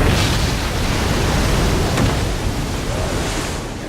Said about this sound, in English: Large waves, moving at speeds of up to 70 miles an hour, surge across thousands of miles of open ocean.